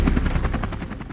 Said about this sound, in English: With terrifying precision, the helicopter lifted Blanca from the icy water.